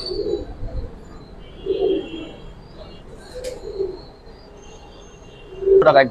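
Giribaz pigeons coo in soft, low bursts spaced a few seconds apart, close by, with a sharper flutter or call near the end and faint ambient noise between.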